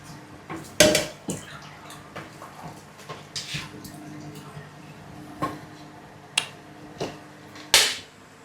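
Beef masala being stirred in a cooking pot with onions, giving sporadic metallic clinks and scrapes of a spoon against the pot, a few sharper knocks standing out over a quiet background.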